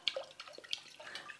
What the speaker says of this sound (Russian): А если мы выльем немного воды